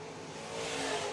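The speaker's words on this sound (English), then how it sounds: "Black and red race car." A late model race car at Fairbury Speedway with its engine revving hard on a qualifying lap, a loud, smooth roar building in the second half as the car passes.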